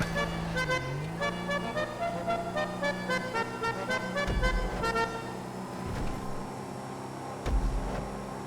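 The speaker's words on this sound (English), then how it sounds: "And this horn is not appropriate." A car horn in the video game FiveM (GTA V) blares in long, loud, sustained honks with short breaks, over racing-car engine noise and traffic, with no voices.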